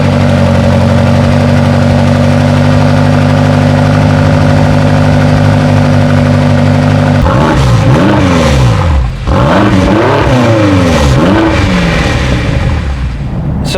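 The BMW X5M's 4.4 litre bi-turbo V8 idles with a deep, steady rumble, then revs hard several times, loud and close, the pitch sweeping up and falling back with each blip of the throttle.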